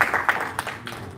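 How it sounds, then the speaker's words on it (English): Applause at an award ceremony, a crowd clapping in a dense, steady wash with a few louder bursts, fairly close and filling the short moment without talk. "Once again, a round of applause for this lovely young generation who are going to be the leaders of tomorrow"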